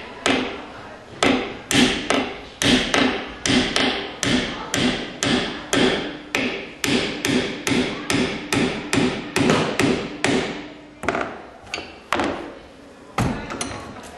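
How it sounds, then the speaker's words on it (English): Timber pieces held tight in a vise being hammered together for a glued butt joint, a long steady series of loud close thuds at a regular rhythm with a brief pause near the end. "we've got that piece of timber nice and tight in our vise, so it's not going to move when we hit it"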